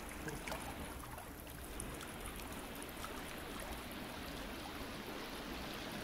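Water flows steadily in The Forest video game, a continuous, even rushing wash like a stream that stays at the same low level from start to finish.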